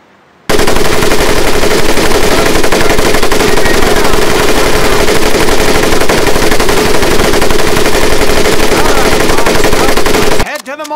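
Sustained machine gun fire in the Medal of Honor Pacific Assault video game at boot camp, a loud, continuous rapid burst lasting about ten seconds before cutting off.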